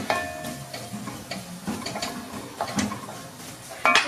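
A spoon stirs a mixture with turmeric oil in a pan, giving soft scraping strokes and light clinks against the metal over a faint sizzle, close and fairly quiet, with a brighter clatter at the end.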